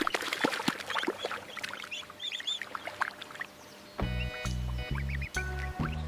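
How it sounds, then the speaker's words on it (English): A duck quacks in short bursts near a pond, a handful of sharp nasal calls spread over a few seconds, close and clear; a bouncy rhythmic backing tune enters partway through. "Duck."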